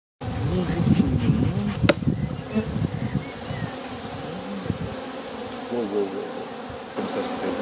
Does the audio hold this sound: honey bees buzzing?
yes